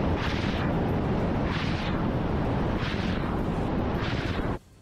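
Army helicopters firing missiles in a Russian air strike on Ukrainian tanks and armoured vehicles: loud, dense roaring bursts of fire in steady waves about every second and a half, cutting off abruptly near the end.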